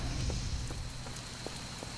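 Soft, steady rain patters on a surface in the video game Marvel's Midnight Suns, a faint even hiss with a few slightly louder drips, alone and quiet.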